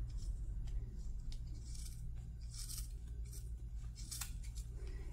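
Scissors snipping through orange decorative material for a pen-case panel, several crisp close cuts spaced irregularly over a low steady background hum.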